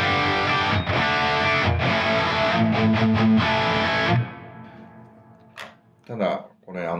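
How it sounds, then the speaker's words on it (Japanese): Electric guitar played through amp-only distortion on a Line 6 HX Stomp XL, loud gritty chords ringing and choked for about four seconds, then fading before a few quiet picked notes and someone speaking. "これただアンプだけの歪みなんですけど"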